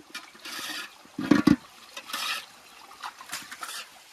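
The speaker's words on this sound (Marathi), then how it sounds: "हे धुतोय तो आता पातेलं." A cooking pot being washed in water at an outdoor bathing and drinking-water spot in a village, with a few soft splashes and a brief louder scrub-and-splash burst in the middle, fairly close and without talk.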